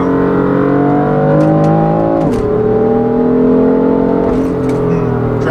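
A 2016 BMW M3 with DCT gearbox, mid-pipe and tune pulls hard in third gear as the tires lose traction, its loud engine note rising steadily with two brief dips where revs stumble and recover.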